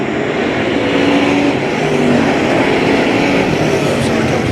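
Crate late model race cars roar around the Hagerstown dirt track, a loud, continuous engine drone with no break as the pack runs laps nearby.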